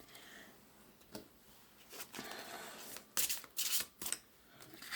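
Tarot cards are shuffled by hand in quiet bursts of crisp riffling and flicking, with sharper, louder snaps near the end as cards slip out of the deck.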